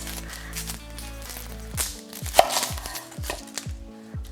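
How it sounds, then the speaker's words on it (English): A knife chops through an onion on a cutting board in a home kitchen, making a quick series of about eight sharp, close knocks after a stretch of low background noise. "we're gonna cut the onion in half like this"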